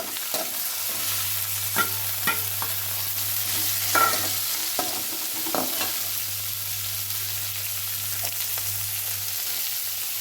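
Palakottai (jackfruit seeds) fry in a pan with curry leaves and coriander, a steady sizzle running throughout, with repeated scraping of a spoon stirring at close range.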